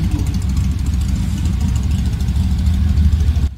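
A Porsche 906 Carrera 6 race car idles nearby at the Tour Auto, a loud, steady, low throbbing rumble with a fine, even pulse and no voices over it.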